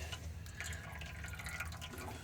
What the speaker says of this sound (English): we'll just have to let this drip a little bit more